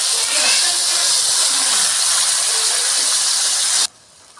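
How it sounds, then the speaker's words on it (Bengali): Water poured into a pan of hot fried spices while cooking a fish curry gives a loud, steady hiss and sizzle for several seconds, then cuts off abruptly into quiet. "আমি এখন একটু জল ঢেলে দিব"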